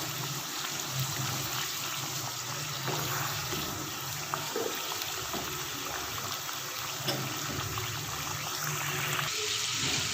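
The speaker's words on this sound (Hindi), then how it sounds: "हमारा चिकन जो है वो बड़े अच्छी तरह से फ्राई हो रहा है" Chicken karahi fries in a pan as the yogurt water cooks off, giving a steady, quiet, broadband sizzle and crackle that runs throughout with no talking.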